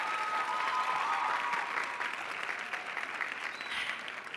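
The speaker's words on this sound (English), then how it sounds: "Another round of applause for Olga." Audience applause at a UC Santa Cruz graduation ceremony, a broad wash of clapping from a large crowd in a big space, strongest at the start and then easing slightly while it continues.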